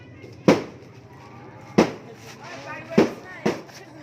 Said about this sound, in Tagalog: Ay, may fireworks, oh.